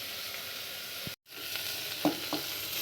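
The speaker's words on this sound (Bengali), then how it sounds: "পেঁপেগুলো একটু তেলে ভেজে নেব।" Papaya pieces fry in oil with a soft, even sizzle that cuts out for a moment, then resumes with a few stirring scrapes.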